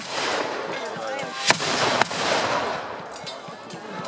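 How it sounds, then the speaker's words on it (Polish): Primitive cannons fire during a reenactment of a Swedish battle at Bydgoszcz: two sharp, loud booms half a second apart cut through a continuous rumble of battle noise and crowd murmur. "Prymitywna artyleria."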